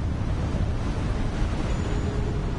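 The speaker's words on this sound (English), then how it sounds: "Bro, look at them wave-ass waves." Steady ocean surf washing continuously in the Hogwarts Legacy video game world, a broad rushing wash of waves with a windy edge, fairly loud and alone without voices.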